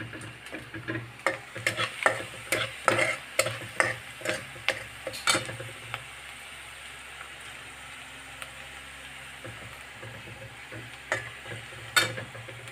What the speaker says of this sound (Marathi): कांदा आपला मस्त तपकीर कलरचा झाला आहे